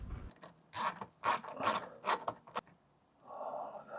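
Small nut being loosened on a Tesla Model 3 or Model Y tail light assembly: a series of short, close ratcheting clicks in separate bursts, followed by a softer rubbing scrape.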